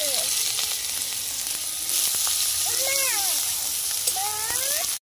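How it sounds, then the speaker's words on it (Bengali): Brinjal slices fry in hot oil with a steady, close, hissing sizzle throughout, while a few chirping calls rise faintly in the background. "তেলটা গরম হয়ে গেছে, বেগুনগুলো ভেজে নেব।"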